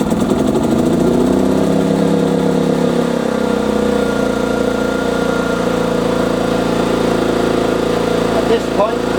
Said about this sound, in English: At this point, with the generator running, you can apply the load.